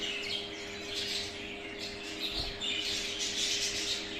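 A show budgerigar chirps and warbles continuously in its cage, a close, busy stream of high tweets and squawks over a faint steady hum, with no talking.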